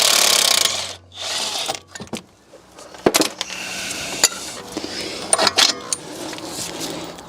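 A spanner works the nut off a car's hub pinch bolt, with metallic clicks, clanks and scrapes of tool on metal in short bursts and some handling noise, close and fairly loud.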